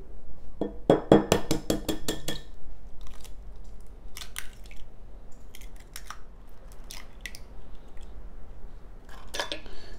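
Two eggs being mixed into condensed milk for a speculoos lemon pie, with rapid clinking taps of a utensil against a bowl early on, then scattered softer scrapes and knocks, close and fairly loud.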